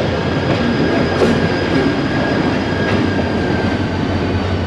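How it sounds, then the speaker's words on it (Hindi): A Kolkata Circular Rail local train rolls slowly under a bridge near a tower, its steady loud rumble filling the whole stretch with faint wheel squeal and rail clatter and no talking. "टावर के साथ ही जो ब्रिज है उसके नीचे से ट्रेन गुजर रही है"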